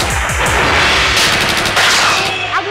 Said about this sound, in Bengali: ওই ওই তো গুলির শব্দ শোনা যাচ্ছে।